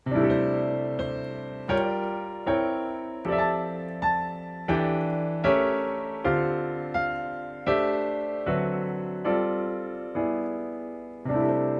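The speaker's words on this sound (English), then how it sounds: "I want to play those really rich, kind of lush sounding jazz chords" Lush, rich jazz piano chords with extensions and alterations struck one after another at a steady pace, each ringing briefly before the next, played alone with full harmony.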